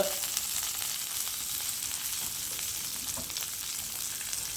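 Onions and curry leaves sautéing in a pan for a thiyyal curry, a steady close, bright sizzle and crackle of frying with no pauses and no talk.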